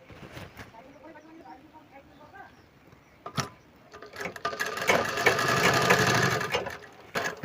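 A sewing machine runs a steady stretch of stitching on sherwani fabric. It starts after a few clicks and handling taps and holds a continuous whir for about three seconds before stopping.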